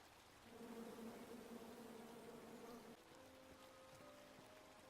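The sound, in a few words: bees buzzing in the video game King's Quest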